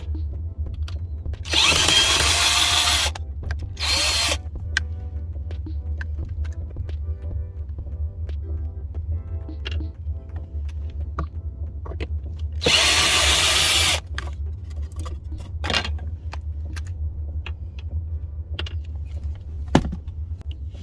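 Power drill backing out screws during a van build, two loud bursts of whirring a second or so long with a shorter burst between, separated by quiet clicks and handling knocks.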